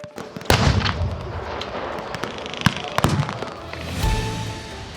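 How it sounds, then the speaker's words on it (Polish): Sharp booming blasts and cracking shots from artillery and gunfire at a battle reenactment go off irregularly, some loud and close, others more distant, over a rumbling background. "Były także samolot, czołgi, ciężarówki, ciężkie karabiny maszynowe, armaty i moździerze."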